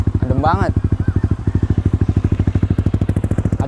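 A Yamaha Aerox scooter with a 200cc bore-up engine runs loud and close with a steady, lumpy, pulsing throb. A voice cuts in briefly near the start.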